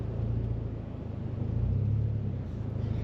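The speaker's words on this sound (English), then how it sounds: "We have a aftermarket exhaust already on this." A Toyota GR86 with an aftermarket Remark cat-back exhaust gives a deep, steady rumble, idling low and throaty, swelling slightly as the engine note rises and falls.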